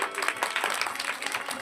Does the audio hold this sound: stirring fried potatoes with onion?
no